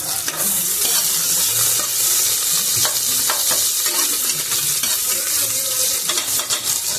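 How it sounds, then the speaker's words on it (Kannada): Cumin seeds and garlic crackle and sizzle in hot oil, a loud close hiss with irregular sharp pops and stirring throughout, no speech. "ಇದು ಚಟಪಟ ಅನ್ಬೇಕಾದ್ರೇ ಜೀರಿಗೆ ಹಾಕ್ಬಿಡ್ಬೇಕು. ನಾನು ಜೀರಿಗೆ ಬೆಳ್ಳುಳ್ಳಿ ಹಾಕಿದ್ದೀನಿ."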